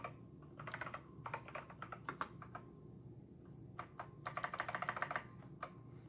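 Keys clack on a vintage TI-99/4A home computer keyboard in quick bursts of typing with short pauses, close and fairly quiet.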